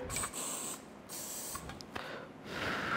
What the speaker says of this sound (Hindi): इसको स्प्रे करें